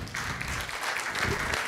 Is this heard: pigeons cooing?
no